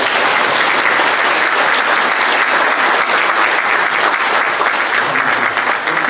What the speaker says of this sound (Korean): 우리 두 가정에서 우리 격려 박수